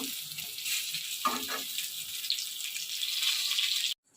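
Pointed gourd (potol) frying in a pan over a wood-fired stove, a steady hiss and sizzle that runs until it cuts off abruptly near the end, with a couple of brief clatters along the way.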